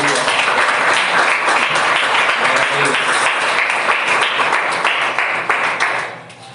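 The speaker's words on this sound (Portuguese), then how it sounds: "Que as palmas louvem ao Senhor" A church congregation claps in praise during a Portuguese-language family worship service, a dense, loud burst of applause filling the room and then tapering off near the end, with voices mixed in.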